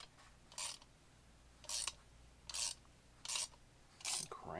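A ratchet wrench cranks a 5/16 nut down on a threaded rod with washers to press a bearing into a Stihl MS200T chainsaw crankcase. It gives five quiet, evenly spaced rasping bursts of clicks close by.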